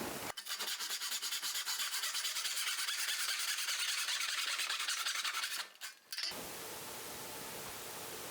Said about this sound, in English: I'm going to make a cut using that.